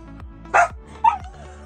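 Dogs out on morning walks bark nearby: two separate sharp barks roughly half a second apart, loud over a low background hum, with no talking.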